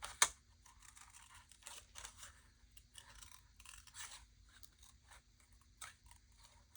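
Scissors cut out a paper shape for a collage, giving soft, intermittent snips and rustles of paper at close range in a quiet room.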